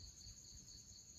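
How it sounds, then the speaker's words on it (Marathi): Crickets chirp at night in a dark, quiet village, a steady high-pitched trilling drone continuing unbroken, faint and distant with no voices. "रातकिड्यांचा आवाज वगैरे येते"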